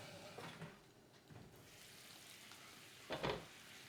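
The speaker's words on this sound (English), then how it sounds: "So now by the sound I can hear that it starts sizzling." Butter and water sizzle in a frying pan while cooking Carinthian noodles, a faint, low hiss with a few brief bursts of louder crackle and stirring clatter.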